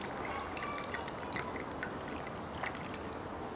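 Dimexide liquid pours into a bottle cap in a quiet, soft continuous trickle with faint splashy ticks, heard alone without talking.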